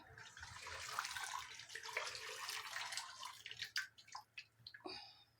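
Water poured into a cooking pot holding rock salt while making yellow sauce with taro, a Cameroonian dish: a steady, fairly quiet rushing pour that breaks into a few gurgles and drips as it ends, with no speech.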